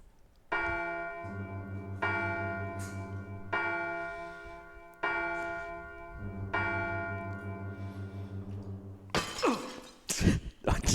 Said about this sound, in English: the delayed reaction from Harry when the glass explodes